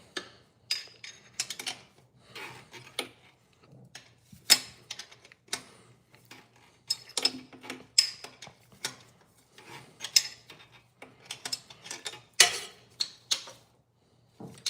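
A hand wrench ratchets and clanks in irregular bursts on a bolt beneath a Mazda's manifold, turned a quarter turn at a time, with close metallic clicks separated by short pauses.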